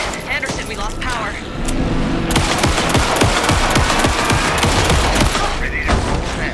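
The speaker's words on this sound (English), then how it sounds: "Anderson, pin him down with gunfire for me to get the light on him." Rapid automatic gunfire in the video game Alan Wake, dense bursts of shots rattling almost continuously over engine-like rumble, with a character's voice shouting over the action.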